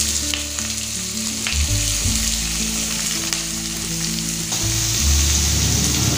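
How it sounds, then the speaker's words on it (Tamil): Chopped onions and green chillies sizzle steadily in hot oil in a pan for an egg podimas, a close, continuous fry with some stirring and no talking. "வெங்காயம் பச்சை மிளகானா நல்லா எண்ணெயிலே சவக்க வதக்கி எடுத்துக்கோங்க."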